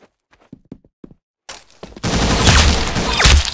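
Gunfire in the video game Windicator, a sudden dense burst of loud, continuous automatic shots erupting after a few quiet clicks and taps, sustained and close for the last second and a half.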